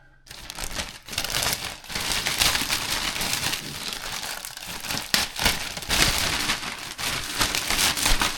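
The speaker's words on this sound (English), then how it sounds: "How many YouTube videos do you have to make before you figure out how to open a plastic bag?" A plastic bag is crinkled and pulled open over a kitchen sink, giving close, continuous rustling and crackling that lasts about eight seconds with small bursts of louder crinkles.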